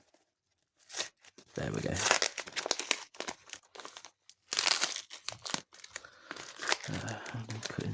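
Scissors cutting into the side of a Pokemon card package, with close crinkling and tearing of paper and plastic in irregular bursts separated by short pauses, and a person speaking briefly.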